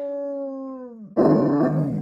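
A dog howls close by in a high, sustained, tonal pitch for about a second, then breaks into a louder, rougher cry with no talking.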